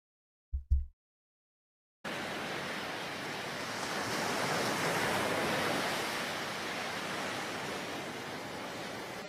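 Ocean waves roar as steady broadband surf that builds and swells slightly, loud and continuous, after a brief low thump and two seconds of silence.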